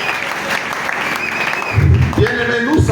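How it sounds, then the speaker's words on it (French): A church congregation applauds loudly in a service, a sustained wash of clapping with cheering voices rising over it toward the end. "Est-ce que tu peux acclamer très fort?"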